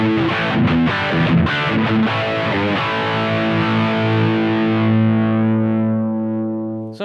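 A distorted electric guitar played through a Blackstar HT5 combo amp with 4x12 cabinet emulation, loud and close: a burst of quick picked notes gives way to a long sustained chord that rings out and slowly fades.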